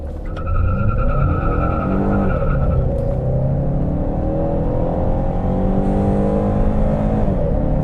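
A Ford Mustang EcoBoost engine revs hard and pulls away from a stop with traction control off, its pitch climbing through gear changes to 100, loud and close from inside the cabin.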